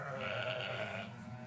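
A ewe's recorded bleat plays from a loudspeaker inside a sheepfold, one sustained wavering call that runs through most of the moment at moderate loudness, fading slightly toward the end.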